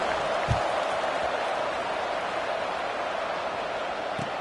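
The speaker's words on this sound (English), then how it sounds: "this crowd is buzzing after that last score" Football stadium crowd buzzing after a score, a steady dense roar of many voices at a distance, unbroken for the whole stretch.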